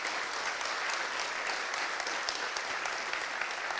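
An audience at a developer conference keynote applauds the host university, a dense, even wash of many hands clapping throughout, fairly distant and steady, with no talk over it.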